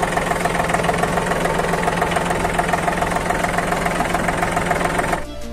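A John Deere 3036EN four-wheel-drive tractor engine idles steadily with a throbbing, knocking beat, loud and close, then cuts off abruptly near the end.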